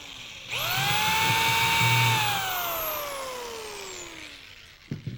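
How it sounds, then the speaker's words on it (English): A power drill boring holes into a wooden end table spins up with a high whining pitch that slowly falls as the bit bites into the wood, running steadily for several seconds before stopping, with a few light knocks at the end. "I'm actually going to go about 1 inch in and 1 inch down to drill the first hole."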